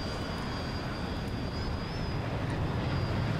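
Steady jet engine roar of an SU-25 attack aircraft during takeoff in War Thunder, a continuous broadband rumble with a thin high whine held at even loudness, no talk over it.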